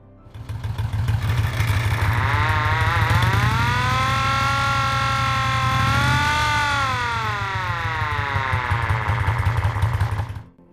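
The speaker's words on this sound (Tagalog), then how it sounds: "Isa rin sa mga naunang imbensyon ay ang espesyal na tunog na signal na may mechanical na pagpapatakbo." A mechanical police siren, a wheel-driven device powered like a bicycle dynamo on an early police motorcycle, winds up into a loud rising wail that holds steady, dips and swells again over a constant low engine drone before cutting off.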